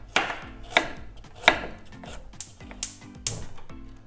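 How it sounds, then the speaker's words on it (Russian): Knife slicing carrots into thin rounds on a board: sharp, irregular strikes about twice a second, close and clear, with a faint low hum underneath. "Затем возьмем 2 небольшие моркови или одну крупную и порежем тонкими кружками или полукружками"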